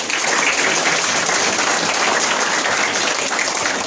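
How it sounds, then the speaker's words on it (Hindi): Loud, dense applause from an audience honoring Maharana Pratap during a Hindi speech, continuous clapping without pause from start to finish. "तो एक बार उनके लिए जोरदार तालियां।"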